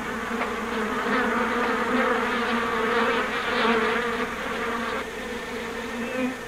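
A swarm of bees, calmed with smoke by their handler, gives off a steady, dense buzzing drone that holds at an even level throughout.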